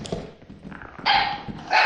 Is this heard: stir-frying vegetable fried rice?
no